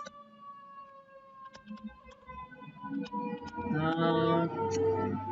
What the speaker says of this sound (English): Another ambulance fire truck.